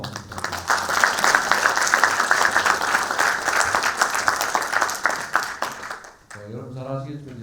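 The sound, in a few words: audience applause for seminar presenter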